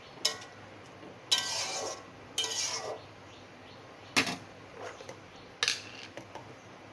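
Lentil dal with ridge gourd is stirred in a pan, with a handful of separate metallic scrapes and clinks of a spoon against the pan over a quiet background, fairly close.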